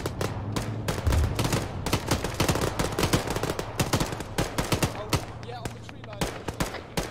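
ArmA gunfire in a firefight with dense, irregular volleys of rifle and machine-gun shots from several directions, some near and some distant, with radio-style voices talking between the shots.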